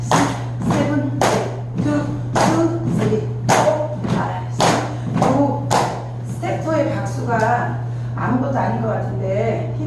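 Sharp, evenly spaced hand claps ring out in a dance class, about a dozen in steady rhythm over a constant low hum, then fade into softer taps as an instructor talks.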